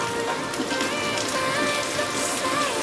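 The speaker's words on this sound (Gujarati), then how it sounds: "તો ગાઈસ બહાર ફૂલ વરસાદ પડે" Heavy rain pours down outdoors, a dense, steady hiss of drops on surfaces that carries on without a break or any voices.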